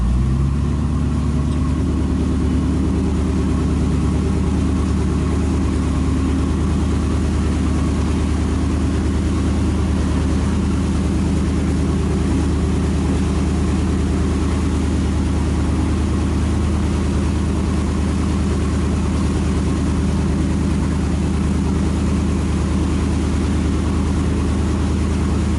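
A Volvo Penta 8.1 marine engine is load tested at about 1200 RPM, giving a loud, steady, low-pitched drone that holds unchanged throughout with no talk over it.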